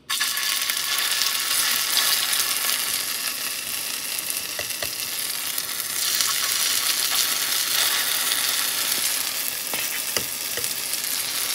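Spoonfuls of lentil paste fritters, bora, seasoned with ginger and green chilli, fry in hot oil with a steady, dense sizzle and crackle that stays loud and even throughout, with no voices.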